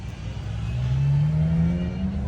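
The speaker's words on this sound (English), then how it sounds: "Oh, listen to the CLK." Mercedes CLK engine revving loudly at close range during a supercar gathering, a sustained roar whose pitch climbs steadily then holds high, with a Carrera GT nearby.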